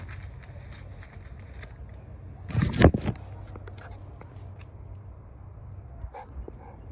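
A dog indoors lets out one loud, close bark or yelp burst in the middle, with softer snuffling and movement noises around it and a faint later yip, over steady low background hum.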